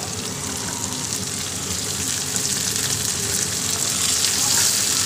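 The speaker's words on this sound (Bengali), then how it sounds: "পেঁয়াজ ক্যাপসিকাম আর কাঁচা লঙ্কাটা ভাজা ভাজা হয়ে গেছে, এবার আমি এর মধ্যে দেব আদা রসুন বাটা আর টমেটো কুচি।" Onion, capsicum, green chili and chopped tomato frying in a pan, a loud, close, continuous sizzle and crackle that builds slightly over the span.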